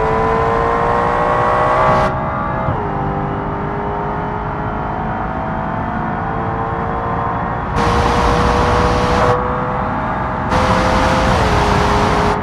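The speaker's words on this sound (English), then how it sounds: "BMW M6." A BMW M6 sports car engine in BeamNG.drive, revving steadily and loudly throughout, with bright high-pitched surges near the start and again in the latter half as the revs climb and drop.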